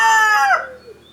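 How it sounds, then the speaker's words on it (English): A rooster crows once, loud and close, in a Danish garden where chickens are kept, the call falling off quickly into quiet. "The chickens usually live in here."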